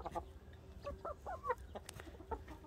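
Farm chickens cluck in short, scattered bursts close by, with a few sharper squawks among them over a faint low background, as if birds are squabbling.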